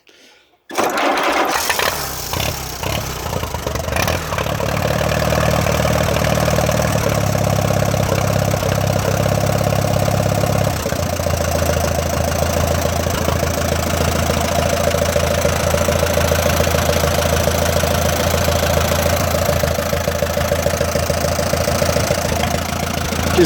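A 1946 tractor engine cranks briefly with a starter whir, then catches and settles into a steady, loud, close idle that runs on unbroken with a lower, even tone after the first several seconds.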